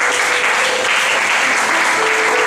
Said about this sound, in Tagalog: Hinanang palakpak natin.